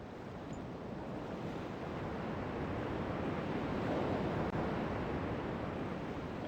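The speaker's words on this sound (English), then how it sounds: "Ooh, water movement." Water moving in the Riven video game gives a soft, steady surf-like wash, broad and continuous like waves or flowing water, faint and without voices.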